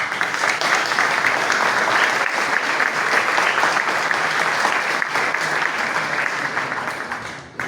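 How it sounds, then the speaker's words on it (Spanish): Sustained, dense applause from a university congress audience honoring a law professor, loud and steady throughout before easing slightly at the end. "el doctor Raúl Chalamé Orbe, para quien pido un fuerte aplauso"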